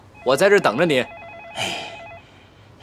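A telephone gives an electronic, warbling pulsed ring right after someone speaks briefly nearby. The ring repeats in a steady on-off pattern, with a short burst of background voice in the middle.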